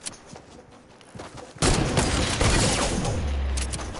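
Gunfire erupts in a Fortnite match during a no-scope sniper exchange: faint shots at first, then a loud, sustained burst of overlapping blasts with a low rumble underneath.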